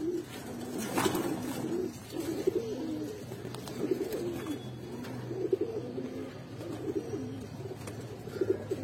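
A pair of Giribaz pigeons, a male and a female, coo steadily up close. Their low, throaty rolling calls keep going with hardly a pause, and no one speaks.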